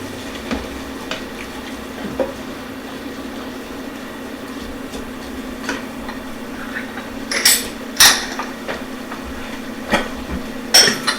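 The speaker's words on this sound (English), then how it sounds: "now let's go ahead and stir this" A spoon stirring spicy sausage with thyme, oregano and pepper in a pot before the liquid and lentils go in: a low steady sizzle under irregular scraping, with a few sharp metallic knocks near the end.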